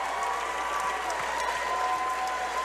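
A dense wash of applause and cheering from the arena crowd after an MMA bout, loud and continuous throughout with no break, the mass clapping steady and close.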